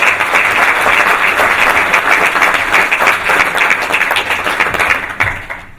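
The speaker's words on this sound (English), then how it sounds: "So let's give them all a round of applause." A graduation audience gives dense, loud applause that holds steady for several seconds and then begins to thin and fade, with no speech over it.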